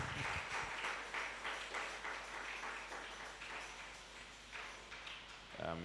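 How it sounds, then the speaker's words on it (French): A church congregation at a prayer and fasting service applauds, a faint continuous wash of clapping heard from a distance that fills the moment, with a voice speaking over it. "Obrigado por me terem aplaudido."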